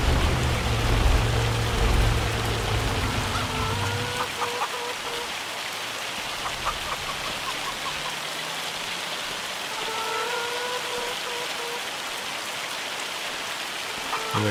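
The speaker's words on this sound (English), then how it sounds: "Pretty crazy, the hail coming down with the sun still shining." Hail pattering steadily in Farming Simulator 25 while the sun shines, a dense continuous rattle of falling ice over the farm, with faint game bird clucks and a low engine hum fading out early.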